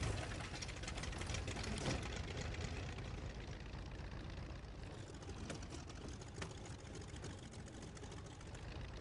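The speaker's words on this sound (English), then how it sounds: "Playing with the freaking tractor." A tractor engine idles steadily in Far Cry 5, a continuous low, rumbling drone with knocking texture that stays fairly loud throughout with no talk.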